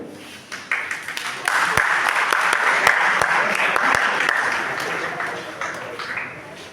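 Hall audience applauding at the close of a police superintendent's motivational speech for a fitness week event, loud sustained clapping with sharp individual claps on top, building quickly and then fading toward the end.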